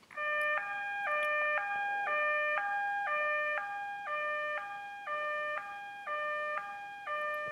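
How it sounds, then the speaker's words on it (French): A loud two-tone siren alternates steadily between high and low pitches in a regular rhythm, sounding alone without any voices. "La sirène retentit."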